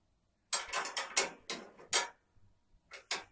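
A hand wrench working an 11mm bolt on the front of a Mazda mini truck during bumper and grille removal, giving a quick series of close metallic ratcheting clicks in several short bursts, then a pause and two more clicks.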